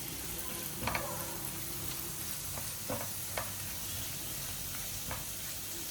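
Almonds and raisins roasting in ghee for rava laddu, a low continuous sizzle with a few light scraping clicks of stirring, close and quiet, no talking.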